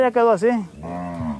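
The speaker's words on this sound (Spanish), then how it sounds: "allá andan metidos las vacas" A cow gives a short, loud moo, and a voice follows, during cattle vaccination and deworming on a farm.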